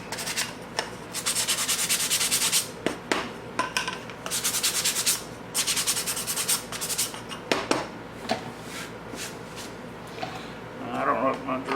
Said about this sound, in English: And we're going to sand this down.